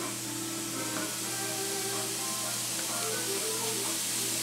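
Green onions sizzling in a hot pan, a steady close hiss and crackle holding evenly throughout with a low hum underneath.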